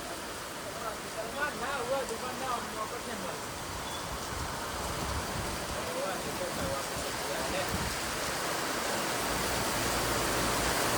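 Heavy rain driven by wind lashes down in the town of Modasa under dark clouds, a dense, continuous roar that grows slightly stronger over time, with a voice briefly audible early on.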